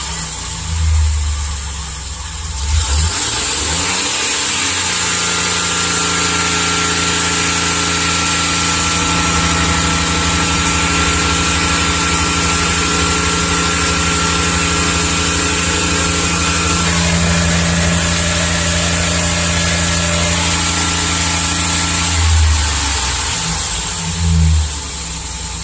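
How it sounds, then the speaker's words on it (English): A Chevy Express van with a misfire at idle runs close by, idling and then held at a raised rev for a long stretch before dropping back to a steady idle, loud and continuous with no voices. "Let's see if I rev it, anything happens."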